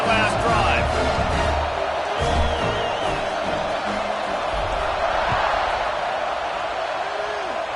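A football stadium crowd roars after a touchdown, a broad, steady wash of cheering heard from a distance under a commentator's voice throughout.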